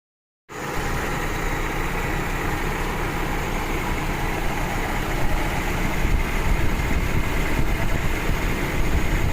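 An Isuzu PUP pickup engine starts and settles into a steady idle, a continuous low, close rumble that grows slightly rougher toward the end.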